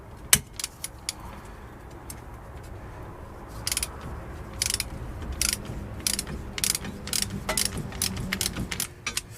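A ratchet with a 19mm socket clicks in irregular bursts while undoing a corroded upper suspension linkage bolt on a 1996–2005 Jaguar XK8, held by a 15mm spanner behind, with light metallic clatter close by and no talk.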